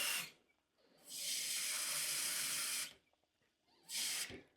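A pre-workout drink mixed with water fizzes with a loud, steady hiss. A brief burst is followed by a long two-second rush, then one more short burst near the end.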